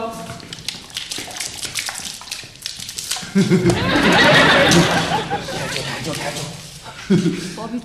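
Water splashing and spreading across a floor being cleaned with powder cleaner, a loud pouring rush in the middle under excited talk and laughter from several people.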